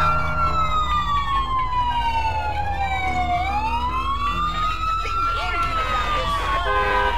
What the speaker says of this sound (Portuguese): Agora não entendi essa viatura da polícia aqui embaixo